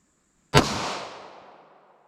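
A single sharp handgun report from a 2-inch barrel firing Hornady Critical Defense Lite ammunition, loud and close, followed by a long decaying echo that fades over about a second and a half.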